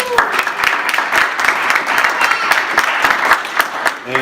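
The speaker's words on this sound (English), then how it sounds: "give our panelists a hand again" Audience applause for panelists at a church-community MLK celebration, a dense sustained clapping from a crowded room lasting several seconds, with voices mixed underneath.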